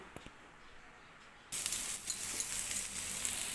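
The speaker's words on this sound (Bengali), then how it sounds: "অর্ধেকটা ক্যাপসিকাম কুচিয়ে রেখেছি সেটাও এই সময় দিয়ে দেব খুব ভালো করে সব কিছুকে ফ্রাই করে নেব" Chopped capsicum and other vegetables drop into a hot pan for a savoury snack; after a quiet start, a loud, dense sizzle bursts in halfway and stays steady and close to the end.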